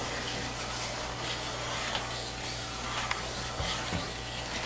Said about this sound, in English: You stir it from the bottom like you see me stirring it here